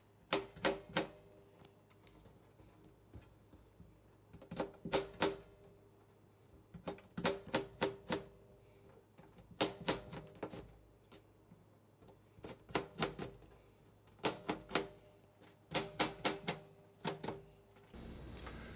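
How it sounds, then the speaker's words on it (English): Quick bursts of sharp knife taps dicing fruit on a cutting board, clustered in rapid groups with short pauses between, close and crisp in a quiet room. "now we're gonna dice this up to make it even smaller."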